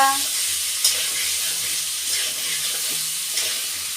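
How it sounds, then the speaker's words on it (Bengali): Steady sizzling of chicken frying in oil, a continuous hiss with occasional light clinks and stirring noises, no talking. "চিকেনটা ভাজা উচিত ছিল এখন দিয়ে দিব বাস চিকেন ভাজা হয়ে যাবে"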